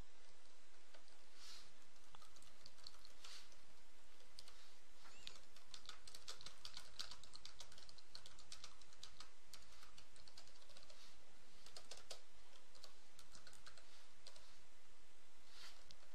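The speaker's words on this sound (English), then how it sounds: "Need to learn how to type here, Derik." Code typed on a computer keyboard, heard as a continuous close run of rapid, uneven key clicks with brief pauses, with no talking.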